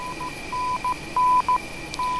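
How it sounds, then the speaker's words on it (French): The ILS middle marker beacon in an F-16 simulator cockpit sounds as a rhythmic series of steady beeps in a Morse dot-dash pattern over a constant cockpit hiss and hum. "Le code Morse que l'on entend correspond à la balise middle marker qui nous indique que l'on est à 2 nautiques"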